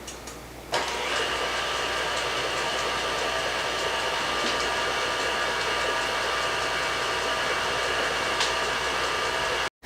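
Electric mixer combining cookie dough for apple cider cookies, whirring in a loud, steady close drone that starts abruptly near the beginning and cuts off at the very end, with no talk.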